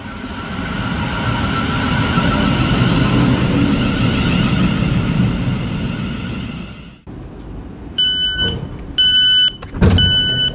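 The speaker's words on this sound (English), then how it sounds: "I've just driven away from the guy's house" A car's steady engine and road rumble is heard from inside as it drives away along narrow lanes. After about seven seconds it drops off and a few short electronic chime beeps follow.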